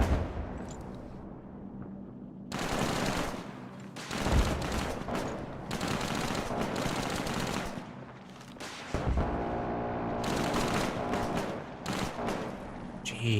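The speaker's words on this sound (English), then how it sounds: "Rifle, minigun, rocket launchers going off." Rifle, minigun and rocket launcher fire in Fallout 4, heavy bursts of rapid gunfire and booming blasts that start after a quiet opening and rattle on loudly with short gaps.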